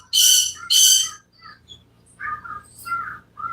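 Two loud, harsh screams from pet birds close by indoors, followed by a few softer chirps and squeaky calls.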